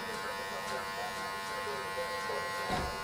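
Electric hair clippers with a one guard and the lever fully open run with a steady close buzzing hum as a fade gets cut, while someone talks over the motor.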